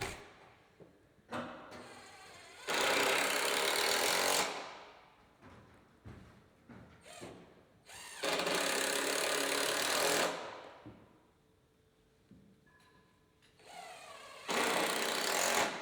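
A power driver sends zinc-plated screws into gazebo rafters in three loud whirring bursts of about two seconds each, with knocks and handling clatter between them.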